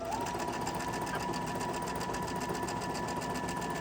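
A sewing machine stitches rows of a quilted table runner, a steady close, rapid mechanical whirring with an even chatter that runs without a break for about four seconds.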